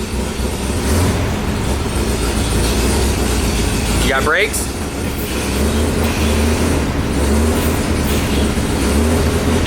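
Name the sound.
retired fire truck engine running on first drive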